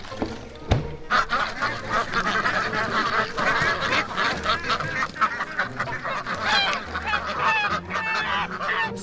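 Embden geese, the white meat breed, honk repeatedly and loudly at close range, a busy overlapping chorus of harsh calls that runs throughout.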